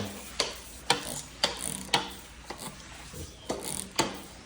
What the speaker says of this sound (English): You see the results with the auto scrubber.